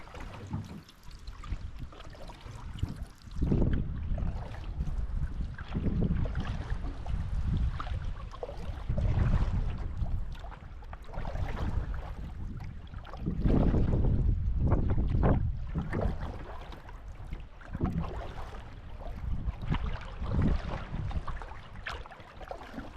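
Canoe being paddled across a large lake in autumn, steady water swishes and gurgles against the hull with gusty wind noise buffeting the microphone, no voices.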